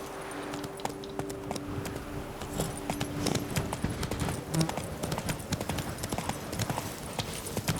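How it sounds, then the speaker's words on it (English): Steady, rhythmic clip-clop of horse hooves at a quick gallop in the video game The Witcher 3, moderately loud and continuous, with faint background ambience. "Come on, Roach, my magic horse."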